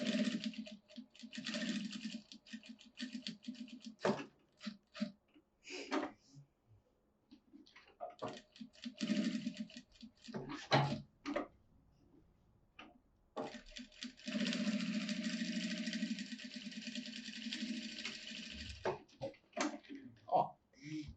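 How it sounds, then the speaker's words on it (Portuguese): A sewing machine runs in bursts while stitching fabric, its motor whirring and needle clattering in stretches, broken by pauses, handling clicks and someone talking in between. "Então, eu vou aqui costurar."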